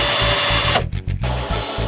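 A power drill bores into wood while a dog kennel is being built, a steady motor whine running through most of the moment with a brief dip in the middle before it picks up again.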